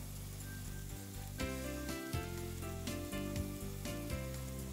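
Cut long beans go into a hot pan and sizzle in a steady, quiet hiss, with a low humming tone running underneath and no talking.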